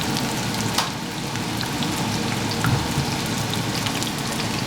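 Chicken fingers sizzle and crackle in a shallow layer of frying oil, a steady close hiss with scattered pops and spatters throughout.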